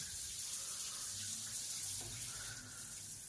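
Tap water from a direct mains pipe rushes out fast and steady in a newly plumbed house, a continuous broadband hiss with no talk over it.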